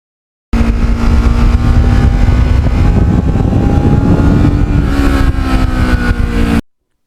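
A black and gold Kawasaki Ninja motorcycle on back roads, its engine droning steadily and loud through a long pull, then cutting off abruptly at the end.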